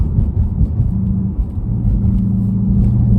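A 2019 Ford Mustang GT California Special accelerating on the road, its engine a loud, steady low rumble with rising tonal bands as revs climb, heard alone and close without talk.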